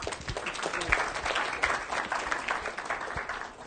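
Audience applause at a scientific symposium, a dense steady patter of many hands clapping throughout, fairly close and even, with no voices on top.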